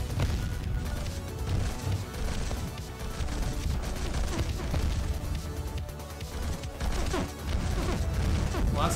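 Rapid, heavy End of Days weapon blasts and explosions in the Neurovoider video game, a dense barrage of crashing booms running continuously and loudly throughout.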